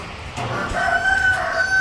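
Rooster crowing with chickens clucking at a poultry and pigeon spot, a sustained crow rising and holding over steady nearby fowl noise.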